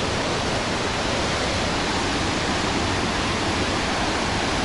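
A constant, dense roar of rushing water, broadband and unbroken from nearby Victoria Falls on the Zambia–Zimbabwe border, with no voices.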